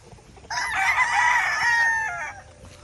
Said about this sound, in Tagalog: ang gaganda ng manok oh